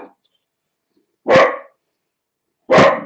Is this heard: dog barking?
yes